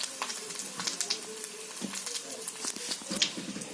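Bay leaves and cumin seeds sizzle briefly in hot oil in a kadai, a soft crackling fry with small pops, close but fairly quiet.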